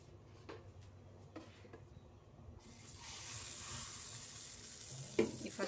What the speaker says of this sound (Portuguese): Esperar fritar um lado, quando tiver frita eu vou virar